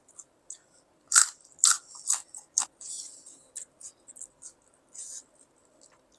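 Close, crisp crunching bites and chewing of a large raw fig, a series of sharp wet snaps in irregular rhythm, some louder than others.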